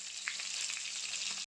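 A close, even hiss of fish frying in oil in a wok, flecked with little spits and pops, runs steadily and then cuts off abruptly.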